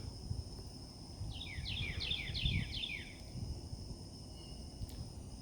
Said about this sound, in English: Natural music, the wind and the birds.